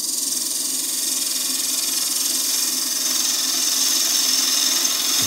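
A bowl gouge taking a light, easy cut on a maple box spinning on a wood lathe, a steady hissing scrape over a low motor hum, continuous and close.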